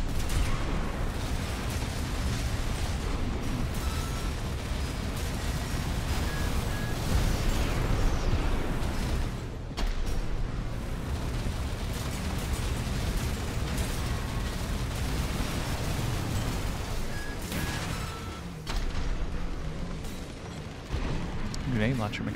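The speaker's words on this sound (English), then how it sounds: "Grenade launcher makes a huge explosion." A grenade launcher blast in the mech combat game Armored Core VI booms through a dense, continuous wall of rumbling explosions and mechanical clatter, loud throughout with brief dips.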